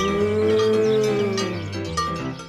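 A cartoon cow on a farm lets out a long, drawn-out low moo lasting about two seconds, heard alone and close with no talk over it.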